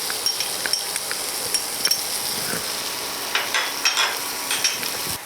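Green garlic and spring onion frying in a pan over a lowered gas flame while making Kathiyawadi vagharelo rotlo, a steady sizzle with intermittent stirring and light clinks of a utensil against the pan.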